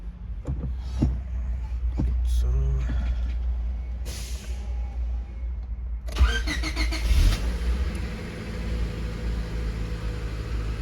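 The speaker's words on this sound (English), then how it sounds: "let's turn on the car and see what we get." A 1996–2000 Honda Civic engine cranks and catches, followed by a steady idle, preceded by some nearby clicks and movement inside the car.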